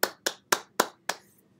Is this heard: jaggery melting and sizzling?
no